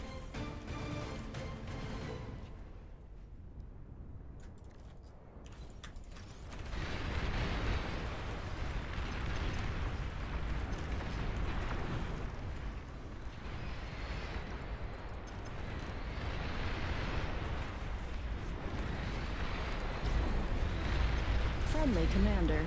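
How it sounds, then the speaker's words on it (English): Cluster artillery shells and explosions rumble in a real-time strategy battle in Beyond All Reason, a dense, continuous wash of booms and blasts that builds after a quieter start, with talk over the top. "I'm gonna try the cluster artillery."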